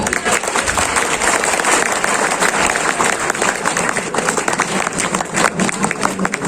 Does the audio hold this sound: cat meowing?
no